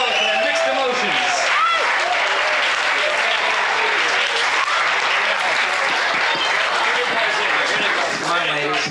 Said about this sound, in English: How about a big round of applause for that mixed emotions?